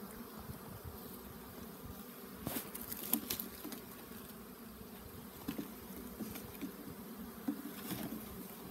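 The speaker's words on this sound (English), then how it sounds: "Bees are right here because there's honey right there." Honeybees buzz around an opened hive, a faint, continuous close-up drone with scattered sharper wingbeats and light taps as the insects move about, and no voices.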